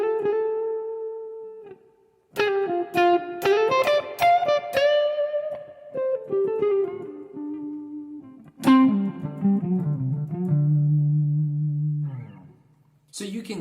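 Soft picking on the neck pickup of a PRS SE245 Standard guitar through a Line 6 HX Stomp amp model with light reverb gives a warm, cleaner tone: a short melodic run of single notes and chords with a brief pause, playing alone.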